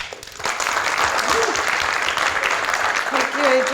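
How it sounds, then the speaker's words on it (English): Warm audience applause for a speaker at a talk on Unreal Engine for filmmakers, dense, loud clapping that swells in after a brief pause and continues steadily, with faint voices beneath. "Please join me in giving a warm round of applause to Azra."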